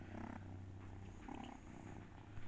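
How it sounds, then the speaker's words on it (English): A house cat purrs very close, a soft, steady low rumble that continues without pause, quiet and alone. "He's just purring."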